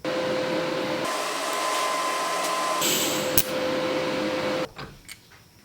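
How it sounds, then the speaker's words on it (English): Welding a 1/4-inch fine-thread nut inside a steel motorcycle exhaust baffle gives a steady buzzing hiss with an electrical whine that changes tone in sections and stops abruptly near the end. "I'm going to weld that guy on the inside here"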